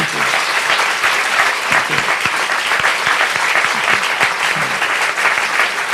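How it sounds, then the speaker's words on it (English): Audience applause at the close of a Q&A discussion during the official launch of Culture Academy Singapore, a steady sustained wash of clapping from many hands lasting throughout with no talk over it. "How about a round of applause again for Dr. MacGregor and Dr. Chong for this interesting discussion."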